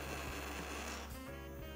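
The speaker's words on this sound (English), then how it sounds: "It's vibrating on the table like that." Gleem electric toothbrush left running and buzzing against a tabletop, a steady close mechanical hum with a rattling edge that holds continuously throughout.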